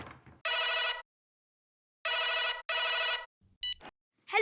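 A telephone rings in a home, two loud bursts of electronic trilling separated by a pause, then a short beep and a voice starting to speak.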